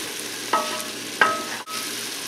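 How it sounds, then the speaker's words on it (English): Garlic stirred into tender sautéing onions, a steady close sizzle with two sharp stirring scrapes of the spoon against the pan, alone with no talk. "now that the onions have been sauteing for a while, they're good and tender, I'm gonna add that garlic. Give it a nice stir."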